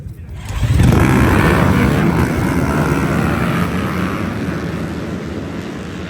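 Several dirt bike engines roar to life at once at a race start and hold a loud, rising, buzzing drone that slowly eases off.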